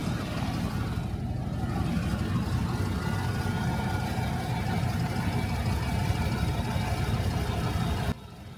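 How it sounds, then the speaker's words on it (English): A P38 Range Rover engine idles steadily after servicing, a continuous low rumble that holds even and close until it drops away near the end. "Now that everything's filled up and the engine's running"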